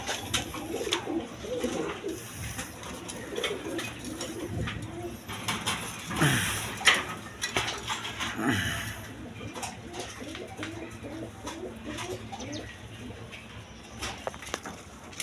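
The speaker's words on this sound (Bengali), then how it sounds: "এইখানে এক পেয়ার কবুতর আছে দেখেন, আমেরিকান ফ্যান্টাল সিলভার কালারের মধ্যে" A pair of American Fantail pigeons, silver-colored, coo softly and repeatedly nearby, their low throaty calls overlapping against a faint background with occasional light taps and rustles.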